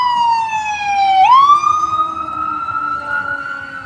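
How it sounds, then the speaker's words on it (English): Ambulance siren close by on a residential street, a dipping wail that sweeps back up and then holds a steady high tone, loud and clear over faint background rumble, with no talking. "Here's the ambulance."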